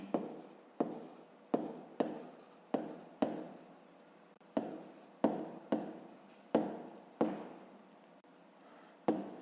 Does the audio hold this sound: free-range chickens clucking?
no